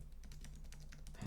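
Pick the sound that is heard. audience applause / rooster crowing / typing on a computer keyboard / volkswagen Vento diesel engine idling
typing on a computer keyboard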